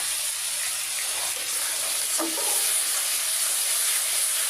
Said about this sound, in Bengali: এদিকে যে আমার বৌমার জন্য আমি ছয় পিস মাছ ভাজছি